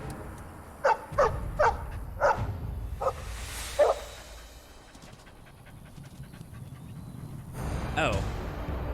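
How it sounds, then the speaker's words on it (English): A dog in the video game Dragon Age Origins gives a rapid run of about six sharp barks and pants, followed by a later single bark over background game sound. "dog."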